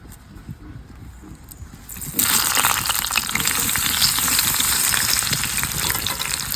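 Jujube berries for a sweet pickle drop into melted mixture in a pan and sizzle, a quieter frying hiss jumping to a loud, steady crackle with scraping stir strokes throughout.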